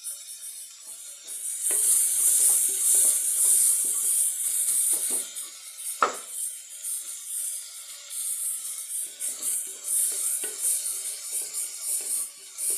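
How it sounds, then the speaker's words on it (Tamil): Onions fry in a pan for bottle gourd sambar, a continuous bright sizzle broken by repeated scraping stirs of a spoon against the pan, close and clear with no voices. "வெங்காயம் நல்லா வதங்கலாம்."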